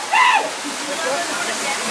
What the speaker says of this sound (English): And look at the family swimming here in the waterfall.